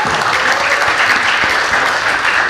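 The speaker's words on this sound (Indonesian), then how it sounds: "tepuk tangan dulu" Audience applause at a youth discussion event, a short burst of dense, loud clapping that holds steady from start to finish.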